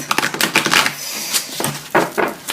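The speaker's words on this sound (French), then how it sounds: "Je brasse les cartes." A deck of tarot cards is shuffled by hand in a quick, uneven run of crisp riffling snaps and soft slaps, close and clear, with bursts and short pauses.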